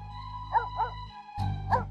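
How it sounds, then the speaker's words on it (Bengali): A cartoon dog barking at night: a pair of short, sharp yips, a brief pause, then another bark, all over a steady low background hum. "এত রাতে কুকুরটা আবার ঘেউ ঘেউ করছে কেন?"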